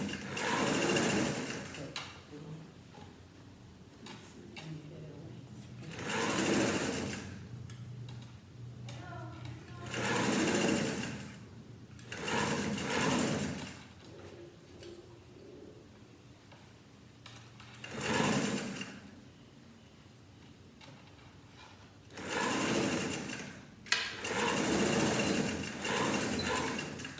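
A sewing machine stitches a blouse neckline in repeated close, loud bursts of rapid whirring. A person talks in the pauses between the runs.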